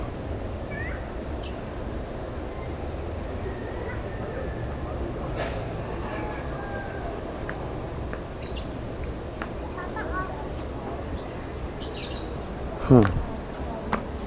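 Small birds chirping at a fishing spot in the Philippines, with faint scattered tweets over a steady outdoor hiss and a brief louder thump near the end.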